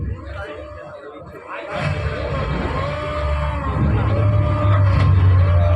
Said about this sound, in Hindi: इस टीम के लिए एक बार जोरदार तालियां हो जाए